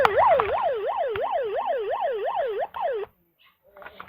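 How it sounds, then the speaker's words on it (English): A toy Hess truck's electronic siren wails in a fast regular up-and-down sweep, about nine cycles, loud and close, then cuts off abruptly into near silence. "Siren 1."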